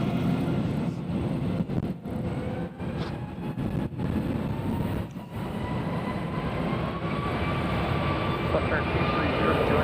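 An Alaska Airlines jet prepares to depart Nashville International Airport, its engines giving a steady broad roar with a faint rising whine, while a person talks over it throughout.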